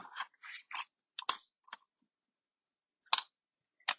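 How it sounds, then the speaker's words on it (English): A die cut machine cuts a card shape for an expanding step card, giving a series of short, crisp clicks and crunching snaps, mostly clustered at the start with a few isolated clicks later, close and fairly quiet. "I'm going to run over to the die cut machine and cut this out."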